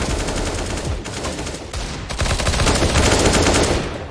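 Continuous rapid automatic gunfire from the CS:GO game fills the whole stretch, loud and dense, with a brief lull near the middle before a heavier burst.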